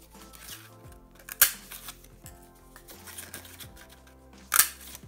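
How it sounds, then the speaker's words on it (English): Paper punch or cutting tool working through patterned paper to make 1-inch circles for a planner closure, with close, faint clicks and scrapes and two sharp snapping punches. "I'm going to cut 4 1-inch circles"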